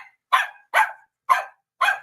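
A dog barks four times, each bark short and sharp, spaced roughly half a second apart, close and clear with silence between them.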